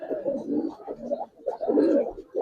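A silver giribaz pigeon coos close by in soft, low, throaty phrases, two gurgling bursts separated by a brief pause.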